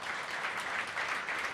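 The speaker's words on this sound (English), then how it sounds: "So you deserve another round of applause." A round of applause from a community gathering audience, dense, even clapping heard at a moderate distance, sustained throughout without a voice over it.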